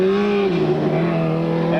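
A Legend race car runs at a speedway in 1996, its engine producing a loud, close, rasping drone that holds steady and then shifts pitch slightly as the car drives past, with no talking.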